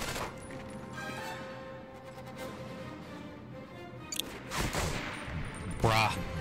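Gunfire in the World War II shooter Medal of Honor: Vanguard, with sharp shots, a few louder bursts toward the end, and a steady din of battle underneath.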